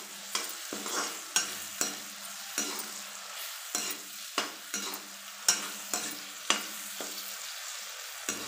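Tadka tempering for khichdi sizzling and frying in hot oil in a pan, with a steady crackle broken by repeated sharp scraping stir strokes at an irregular rhythm, close and fairly loud, without talk.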